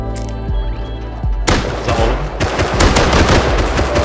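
Gunfire in the video game Rust: a few single shots, then a loud, dense burst of rapid automatic fire with sharp repeated cracks, close and dominant, with no talk.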